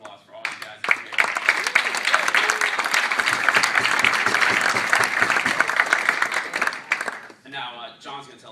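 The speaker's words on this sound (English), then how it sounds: "I just want to give a round of applause for all you guys out here" An audience bursts into applause, quickly swelling into dense, steady clapping that holds for several seconds before thinning out as a voice begins to speak.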